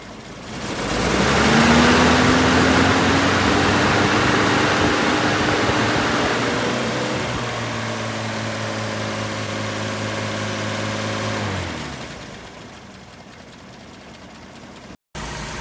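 A 2015 Toyota truck's engine fan clutch kicks in with a loud rising whoosh of fan roar over the idling engine, holds for several seconds, then drops away as it disengages, leaving a quieter idle hum.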